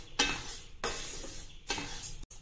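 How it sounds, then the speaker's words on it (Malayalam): Fenugreek seeds are roasted and stirred in a pan, three scraping, rattling sweeps of the seeds against the metal with a faint sizzle, close and fairly quiet. "ഇനി നമുക്ക് ഉലുവ വറുക്കാം."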